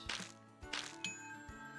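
A small bell is rung three times during Christmas plating, each bright metallic ding ringing out and fading, the strikes spaced roughly half a second apart, close and clear with no talking.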